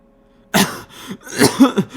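After a short silence, a person coughs and clears their throat in a few rough, close bursts.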